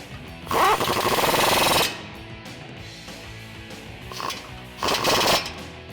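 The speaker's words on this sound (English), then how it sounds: "we're going to use a 14mm socket to secure that." An impact-style socket tool with a 14mm socket tightens an exhaust pipe bolt on a Toyota Tacoma MBRP exhaust system, firing in two loud rattling bursts, the first longer, with a short buzz between.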